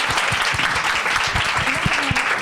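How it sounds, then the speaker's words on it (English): Festival panel audience applauds, a loud, thick burst of clapping with distinct nearby hand claps popping out of the steady wash, some faint voices underneath. "you can clap for him"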